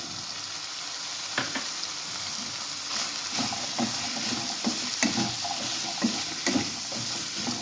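Partly cooked chicken with soaked, boiled, salted legumes fries in a pan, a dense continuous sizzle broken by repeated spatula knocks and scrapes as it is stirred; no talking.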